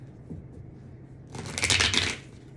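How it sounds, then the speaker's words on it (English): A quick riffle of playing cards being shuffled, a short crisp flutter up close after a quiet moment. "Shuffle this a couple times."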